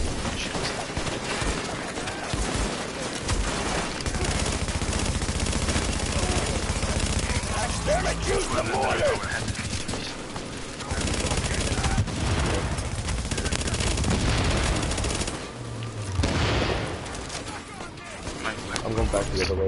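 Rapid bursts of automatic gunfire from an enemy bot in a Warren Gate legendary match, sustained and loud throughout, with a player talking over it.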